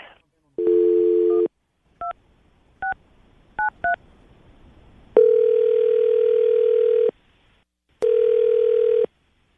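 Telephone keypad tones beep in a short irregular sequence, followed by two long, steady ringback tones separated by a pause.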